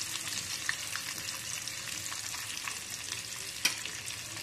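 Eggs dropped into hot oil in a pan with spices added, giving a steady close frying sizzle throughout, broken by a few light utensil clicks and one sharper tap near the end.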